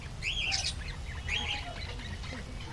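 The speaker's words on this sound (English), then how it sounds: "Here we are having beautiful birds in our park." Birds in a school park give repeated squawks and chirps at moderate distance, two bursts close together and then quieter calls, over faint background noise.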